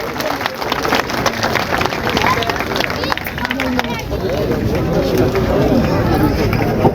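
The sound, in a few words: audience clapping to welcome a guest at a village rally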